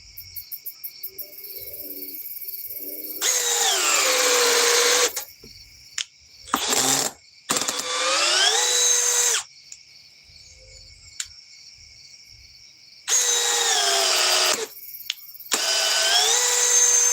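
A Milwaukee M12 Fuel third-generation power tool whines in several sustained bursts of a few seconds each, with short gaps and brief blips between them, loud and close with no talk.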